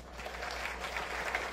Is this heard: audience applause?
yes